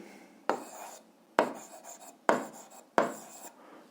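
Handwritten strokes of a pen on paper while a linear function formula is written out, four distinct scratchy strokes spaced about a second apart, close and quiet with no talking.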